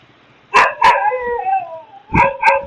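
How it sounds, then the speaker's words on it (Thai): A dog barks nearby in two quick pairs, with a drawn-out whining howl between them; no one speaks. "น้องหมาก็ยังเห่าผมอยู่นะครับ"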